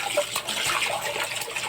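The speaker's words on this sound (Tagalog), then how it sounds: "Hugasan lang po natin maigi." Water runs and splashes while pork intestines (isaw) are washed, a close, steady rushing and sloshing with no talking over it.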